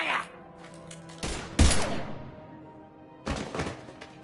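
Gunfire in the video game Mass Effect 3: several heavy, booming shots, spaced irregularly with pauses between them, fairly close and loud, with faint voices in between.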